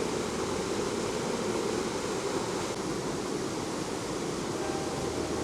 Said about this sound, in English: that little waterfall that is quite famous, that people like to sit under, it's quite strong and does push you away